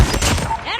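A shotgun blast in Call of Duty Mobile multiplayer fires as one sharp, loud burst up close and then rings out briefly.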